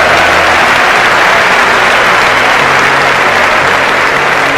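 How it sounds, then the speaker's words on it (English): An audience breaks into loud, dense applause at a motivational talk, a continuous roar of clapping close and full throughout, with no voices above it. "Give her a round of applause"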